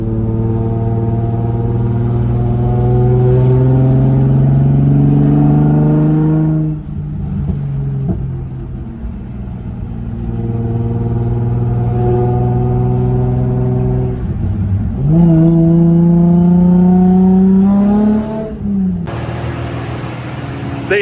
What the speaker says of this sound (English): start her up, take it for a test drive